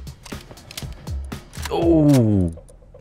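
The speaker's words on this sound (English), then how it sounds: "Hey, double door. Nice." A double door creaks open in a survival video game at night, a drawn-out groaning swell after a few sharp knocks and clicks, fairly loud in the foreground.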